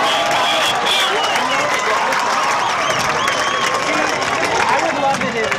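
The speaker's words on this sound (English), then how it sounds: "Please give a round of applause for your 2017 homecoming Royal Court." A stadium crowd at a college football game cheering and applauding the homecoming court, a loud sustained roar of clapping, shouts and voices with no break.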